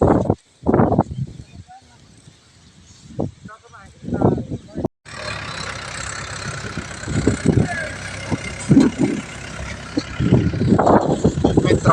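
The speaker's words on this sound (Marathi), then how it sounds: "ट्रॅक्टर निघत आहे बाहेर तुम्हाला दिसत आहे कसा निघत आहे ट्रॅक्टर" A tractor engine rumbles and idles, starting after a few scattered thumps and continuing steadily with clatter and bursts of noise, fairly close, as it drives out on a farm.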